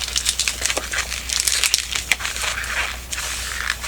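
Squeaky rubbery crinkling and squeals of a latex balloon being twisted into small pinch twists for a stingray figure, a busy close run of rubs and squeaks with no talking.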